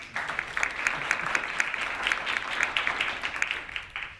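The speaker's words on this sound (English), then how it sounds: "if you all give her a round of applause" Audience at a school-district community meeting applauding, a steady patter of many hands clapping at moderate distance, sustained throughout without speech.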